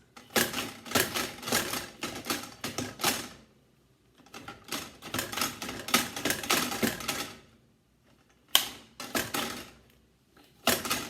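A knife scores raw steaks in several directions on a cutting board, making quick clusters of close, rhythmic cutting strokes separated by short pauses.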